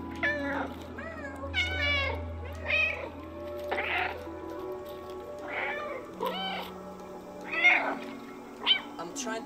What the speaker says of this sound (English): I can meow!